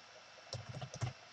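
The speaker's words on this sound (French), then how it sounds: "il suffit d'appuyer sur la touche Entrée du clavier" A few quick keystrokes on a computer keyboard, soft and close, clustered in a short burst with quiet pauses around them.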